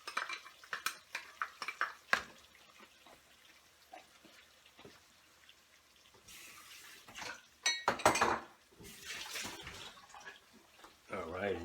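Tomato sauce being stirred into chicken kofta curry in a pot, with scraping utensil clatter against the metal and wet sloshing, louder bursts near the end, and a voice talking throughout.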